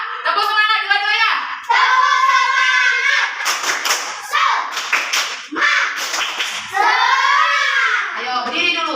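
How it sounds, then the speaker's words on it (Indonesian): Children's voices chant and call out loudly while hands clap and tap along in bursts during a classroom clapping game, close by and lively. "Ayo tepuk tangan dulu kalau kita bahagia."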